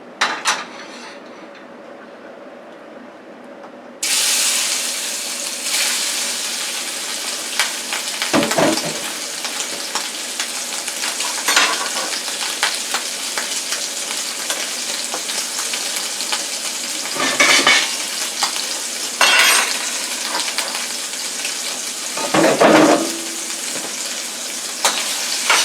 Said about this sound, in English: now we're going to just fry them. I have some grapeseed oil in this frying pan right here.